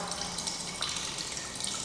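Fresh coconut water trickling through a strainer into a container below, a continuous close patter of liquid with tiny drip splashes, steady and unbroken.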